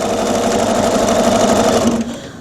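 A domestic sewing machine stitching free-motion quilting runs loud and steady for about two seconds, a continuous mechanical whir with a rapid needle rhythm, then slows and stops; no voices.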